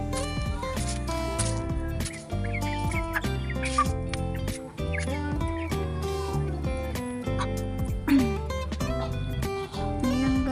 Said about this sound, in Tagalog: Bisitahin po natin yung ating mga alagang manok.